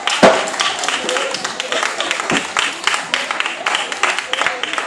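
A live crowd at an outdoor concert in a botanical garden in Cayenne gives the band close, lively applause and scattered claps for several seconds, with voices mixed in.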